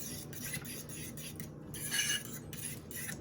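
A utensil stirs keto breakfast ingredients with sharp cheddar cheese in a bowl, quiet scraping and clinking strokes repeating close by.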